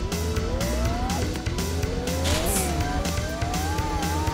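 A car drifts in a video game, with a continuous engine roar that rises and falls and tire squeal from skidding, loud and steady throughout, with no talking.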